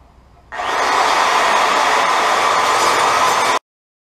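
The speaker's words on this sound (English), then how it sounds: "cutting this down to size. I'm gonna use a sawzall." Reciprocating saw (sawzall) cutting down a broken go-kart spindle, a loud steady buzzing cut that starts abruptly after a brief quiet moment and stops sharply near the end, with no talking.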